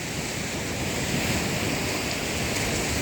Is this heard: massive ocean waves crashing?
yes